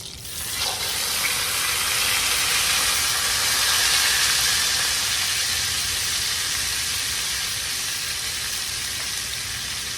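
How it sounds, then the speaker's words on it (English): Pork chops frying in a pan, a loud steady sizzle and hiss that carries on without a break, with no talking. "This is the last batch of the frying."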